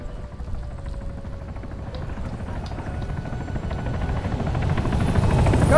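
A damaged helicopter in the video game Arma 3, its rotor thrumming in a steady droning whir that grows louder toward the end, with no talk over it.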